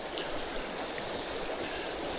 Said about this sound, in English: This ranges from fast bubbly water to a nice deep pool at the back end of the run.